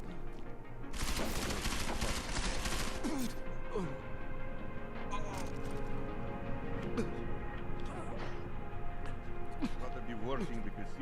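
Gunfire in Deus Ex: Mankind Divided, with a loud burst of rapid shots that then gives way to scattered impacts and crashes over a humming game background.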